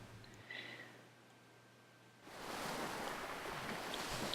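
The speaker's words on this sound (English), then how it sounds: "I hear water." Faint quiet ambience with a low hum gives way abruptly to a steady, rushing wash of waves breaking in the video game To the Moon, continuing evenly to the end.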